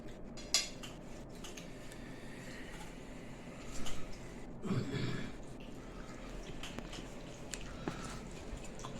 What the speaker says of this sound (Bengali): চামচ দিয়ে খেতে ইচ্ছে করলো বলে খাচ্ছি